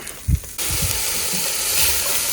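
Onions, carrots and potatoes hit a hot pot with a sudden, loud, steady sizzle that continues evenly, preceded by a few soft thuds of vegetables dropping in.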